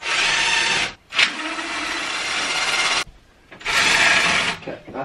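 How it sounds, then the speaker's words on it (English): A power drill backs screws out of a toddler bed frame in three loud whirring bursts, separated by short pauses and a brief rattling clatter. "You wanna learn how to use a drill?"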